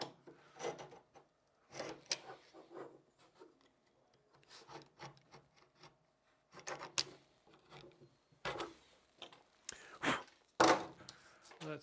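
A hand saw cuts a piece of wood from a dresser in irregular bursts of rasping strokes, close and fairly quiet, with pauses between runs.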